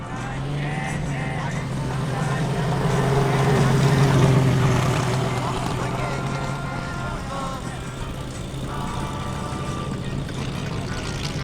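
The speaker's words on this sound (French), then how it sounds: "Il roule avec une moto de Speedway, avec un moteur Jap." A single-cylinder JAP-engined speedway motorcycle revs loudly and steadily nearby at a vintage beach race, swelling at times, with a voice talking underneath.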